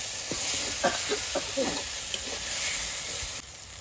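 Duck curry with green chillies sizzling in a pan while being stirred, a constant hiss of frying with scraping and clacking stirring strokes close up.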